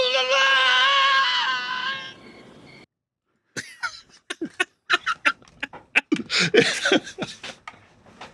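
Wilhelm scream sound effect, a loud, sustained wailing cry for about two seconds, followed after a pause by a rapid string of sharp clicks and clatters.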